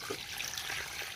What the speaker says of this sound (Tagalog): Tubigan ko lang po ng level muna dyan sa kalabasa.